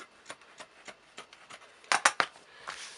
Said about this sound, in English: I'll cut along here